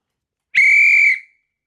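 A cheap emergency whistle blown once in a single loud, shrill half-second blast that cuts off sharply, close and alone against silence.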